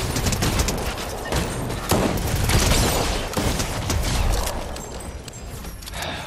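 Gunfire in the video game Fortnite, a dense run of rapid shots and bursts with booming impacts, loud and continuous, over a busy game-sound backdrop.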